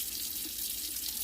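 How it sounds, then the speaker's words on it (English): Steady water from a household sink faucet pours continuously while plant-cutting containers are rinsed and refilled, a close, even hiss with no talking. "gently rinse out the containers and refill with water"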